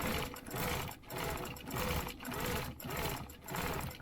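A sewing machine runs a back-and-forth zigzag stitch, giving a steady mechanical whir in regular bursts with brief pauses about every half second. No one speaks.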